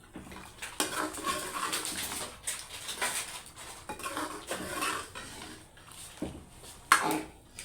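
Chicken is mixed with paste for biryani in a metal pot. A spoon scrapes and clatters repeatedly at an uneven rhythm, with wet squelching between the strikes and one louder clank near the end, all close by.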